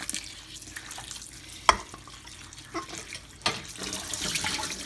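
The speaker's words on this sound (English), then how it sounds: "So we're going to rinse the daikon that was salted and pressed under weight all night" Salted, weight-pressed daikon strips are rinsed under a running tap, with a steady splashing water stream, a sharp knock near the middle, and a brighter gush of water toward the end.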